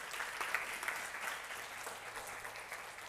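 A church congregation gives a brief round of applause, the clapping soft and somewhat distant, steady for about three seconds.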